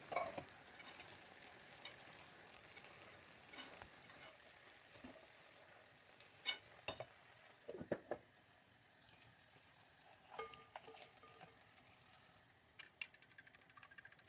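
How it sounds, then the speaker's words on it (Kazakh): Diced bread fries in a pan, a faint steady sizzle broken by scattered scrapes and clicks as the pieces are stirred. "Сәл қуырып болғаннан кейін туралған нандарымызды қосып, араластырып, тағы біраз қуырамыз"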